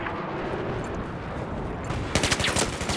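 Gunfire in Battlefield 4 Conquest: a steady layer of distant shooting builds into a loud, rapid automatic burst near the end, with no talk over it.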